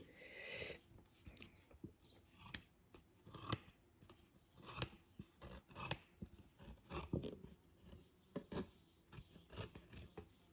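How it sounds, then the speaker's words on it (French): Scissors snip through paper and card for a handmade mini album, a series of crisp, close cuts in irregular bursts with soft rustling between them, no talking. "on va recouper. Il faut que je prenne absolument l'autre ciseau."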